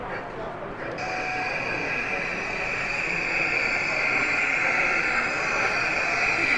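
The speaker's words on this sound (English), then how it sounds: "This is the works train." Works train running on the Pennard Road layout at a model railway club exhibition: a steady high mechanical whine and hum from the model locomotive persists throughout over a busy hall background with crowd chatter.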